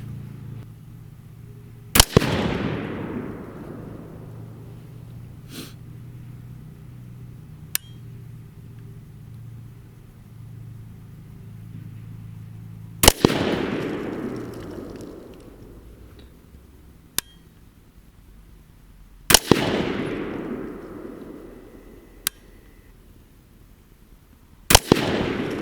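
A Windham Weaponry AR-15 rifle fires at a shooting range. Three single loud shots ring out several seconds apart, each with a long echoing tail, and faint distant pops and ticks sound between them.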